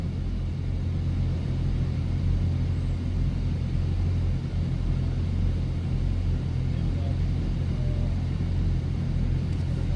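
A steady, loud low engine rumble holds for the whole stretch on a Nashville street, with no clear rise or fall of a single car passing.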